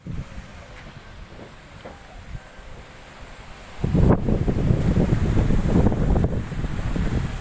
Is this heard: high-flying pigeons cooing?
no